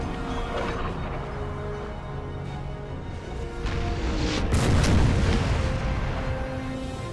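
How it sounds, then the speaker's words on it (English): Cannon artillery fire in the video game Napoleon Total War, heard as a dense battle rumble with scattered muffled booms and a louder blast midway, distant and continuous with no talking. "I'm hearing the whooshka of the cannonballs, but not seeing them hit anything."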